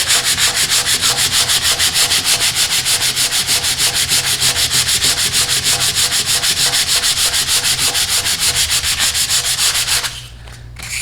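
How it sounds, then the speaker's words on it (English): Sandpaper of 120 grit scrubs lacquer off a wooden surface in fast, steady, loud back-and-forth strokes that run continuously for about ten seconds, then stop, leaving quieter rubbing. "So then we're going to take our 120 and we're going to do the same thing."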